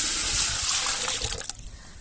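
Water gushes steadily into a cooking pot on the stove, about a kilo of it, as a sweet rice-flour pinni batter is being prepared; the pour runs loud and continuous, then thins and trails off near the end.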